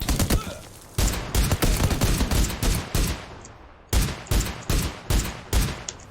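Gunfire in PUBG, loud close bursts of sharp shots firing in quick rhythmic volleys, with a short pause between two sustained strings of rapid fire.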